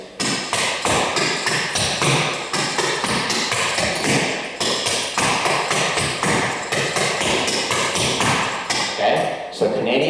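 Steady, fast clogging taps of Canadian basic steps ring out close and loud, a continuous rhythmic clatter of shoe strikes with occasional heavier thuds.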